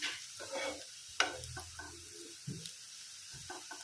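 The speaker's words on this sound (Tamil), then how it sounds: "இந்த மாதிரி ஒரு நல்லா வதக்கணும்" Onions sautéing in a pan for chicken dum biryani, soft intermittent stirring scrapes and light sizzling at low volume with short pauses between strokes.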